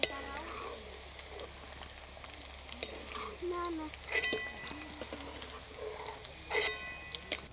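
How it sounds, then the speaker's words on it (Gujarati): Hot oil for a Kathiyavadi garlic curry (lasan nu shak) hisses softly and steadily after the garlic cloves come out, with a few clinks and stirring noises and brief louder bursts of sizzle. "હવે આના તેલમાં આપણે વઘાર કરી નાખીશું"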